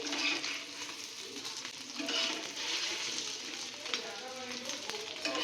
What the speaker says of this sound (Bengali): উল্টে পাল্টে ভালো করে ভেজে নিচ্ছি